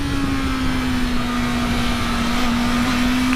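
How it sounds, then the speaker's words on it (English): A 2018 Honda CBR650F inline-four motorcycle engine holds a loud, steady high-pitched wail with no talk over it. "experience that rush, that wail, that euphoric melody that only an inline 4 configuration can"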